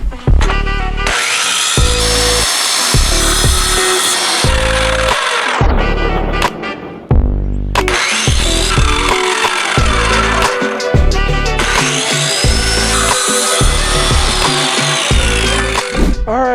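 A power saw cuts out the top for a 20-gallon aquarium stand, loud and close, in a series of rhythmic cutting strokes with a short pause midway before the sawing resumes.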